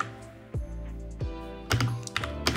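Typing on a Mac computer keyboard while entering a terminal command, a series of crisp, irregular keystrokes close to the mic, growing busier toward the end.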